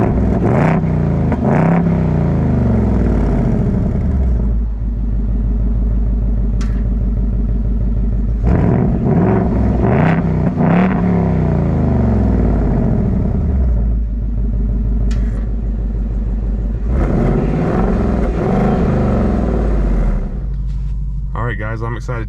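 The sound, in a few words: 2024 Ford Mustang GT 6-speed car driving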